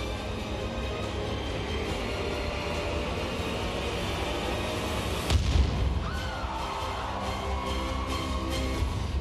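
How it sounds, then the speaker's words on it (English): A staged explosion in a talent show danger act booms once midway, a sharp blast breaking through a loud continuous rumble of stage noise, with faint lingering tones after. "Simon, there are some people that may think this explosion isn't real."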